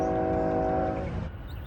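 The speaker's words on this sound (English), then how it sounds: "when I heard the distinctive timbre of a K5HL, I knew that a train was nearing Arcadia and would soon emerge from the trees" A K5HL air horn on an approaching BNSF intermodal freight train blasts loud and sustained, its chord holding for about a second before cutting off into rumbling rail noise.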